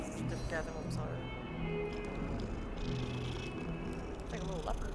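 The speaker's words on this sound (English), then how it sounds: "That's a cat." A cat purrs in Hogwarts Legacy, a low continuous rumble running under steady conversational talk and game background sound.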